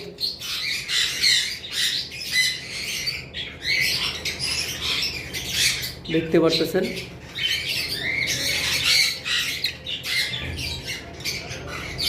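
A breeding pair of large lutino cockatiels squawk repeatedly in harsh, bursting calls, loud and close, while someone talks over them throughout.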